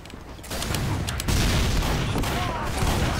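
Blutsauger syringe gun from Team Fortress 2 firing, a dense, steady stream of rapid shots that thickens after a short quiet lead-in and runs continuously at close range.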